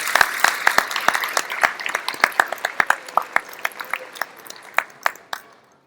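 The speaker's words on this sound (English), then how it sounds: "I think we all need to give a big round of applause to our guests for that." A small gathering at a community celebration applauding guests, with sparse, distinct individual claps ringing out close by in an uneven rhythm and slowly thinning toward the end.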